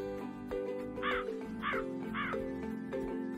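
A crow gives three loud, harsh caws in quick succession, close and clear over a steady tonal musical backdrop.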